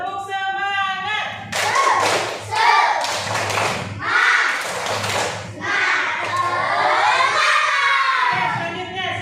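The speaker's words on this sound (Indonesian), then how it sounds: "Mari sama-sama kita tepuk semangat." A class of fourth-grade children performs a rhythmic spirit clap in a school classroom, loud patterned claps and thumps alternating with shouted chanting voices close by.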